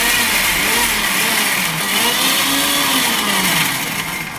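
Mixer grinder whirring steadily as it grinds a spice paste for sardine fry, with coconut being added to the mix; a loud, continuous motor drone with a slightly wavering pitch and no talk.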